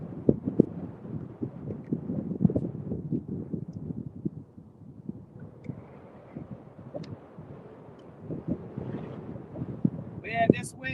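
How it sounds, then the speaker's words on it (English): Wind gusting over a river on a fishing outing, a steady low rumble of buffeting against the microphone throughout, with a person talking underneath and a brief higher chirp near the end. "if this wind gets worse, it's going to be hard for me to fish"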